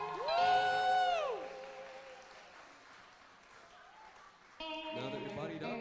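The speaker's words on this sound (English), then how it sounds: "Applause for Darius really quick." A bright whooping cheer rings out first, then a soft patter of audience applause lingers at a distance before a second burst of cheering voices.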